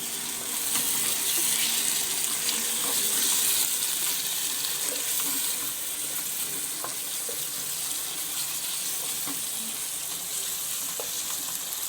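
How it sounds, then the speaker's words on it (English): Vanjaram fish biryani in a cooking pot sizzles steadily as water is poured in, a broad hissing, bubbling wash with faint stirring clicks, close and continuous with no talking. "Add a little bit of water."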